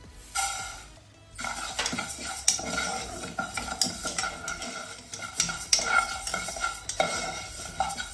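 Fenugreek seeds stirred and dry-roasted in a pan for a spice mix, a continuous scraping, rattling stir with light sizzle and clinks of a utensil against metal, close and fairly loud.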